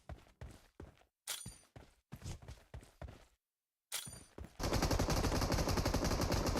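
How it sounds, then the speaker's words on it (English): Mk14 rifle fire in PUBG Mobile comes in several sharp, loud bursts of rapid shots separated by short pauses, then gives way to a dense, continuous roar of gunfire. "That Mark 14 just doing its thing."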